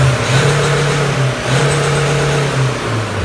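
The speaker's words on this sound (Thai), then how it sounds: "ดูคันเร่งกันนะ ครับมันเร่งไวๆนะครับ" A Honda 1.9 car engine with an ECU remap and stock exhaust revs loud and close, holding a steady drone that dips briefly and rises again over a few seconds, with no talking.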